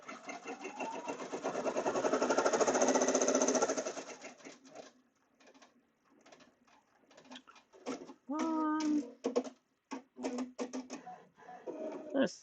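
An embroidery machine stitching a mug rug in the hoop runs with a steady, dense whirring hum for a few seconds, then stops; afterward come scattered clicks and short bursts of machine noise, along with a brief bird-like warble.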